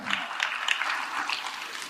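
Applause from a church revival congregation at a late-night gathering, a steady dense patter of many hands clapping at moderate distance, filling the whole stretch with slight swells and no voices.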